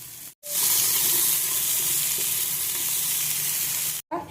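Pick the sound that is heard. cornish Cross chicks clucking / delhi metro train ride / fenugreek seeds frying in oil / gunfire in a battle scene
fenugreek seeds frying in oil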